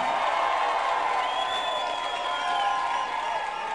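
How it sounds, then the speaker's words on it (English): A large welcoming crowd applauds and cheers as Emirates Team New Zealand returns home with the America's Cup, a steady dense roar of clapping and voices with a faint whistle-like tone drifting above it. "They arrived home, as you can hear, to rapturous applause."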